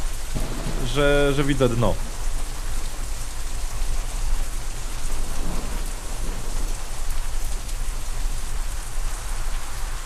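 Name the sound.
thunder and rain in video game Out of Reach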